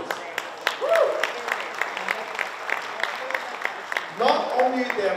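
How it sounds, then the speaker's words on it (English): Applause from the audience at a gala evening honouring members of Parliament and provincial Parliament, a steady crowd clapping with a cheer and voices breaking through near the start and end. "So give them a big, big round of applause, please."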